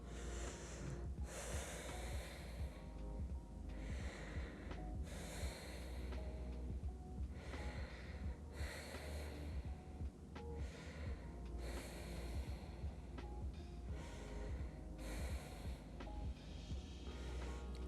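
Deep rhythmic breathing during a stress-relief yoga session at home, slow inhales and exhales repeating roughly every few seconds, close to the microphone, with no talking.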